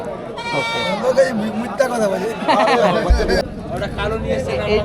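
Totapuri goats from Patna bleat at a busy wholesale goat market in Kolkata, several loud, wavering calls close by, mixed with crowd chatter and people talking.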